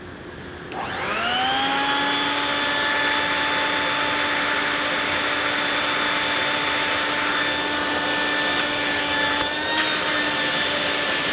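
A motor whirs up to speed and settles into a loud, steady whine with airy roar, like a dust collector or shop vacuum running continuously.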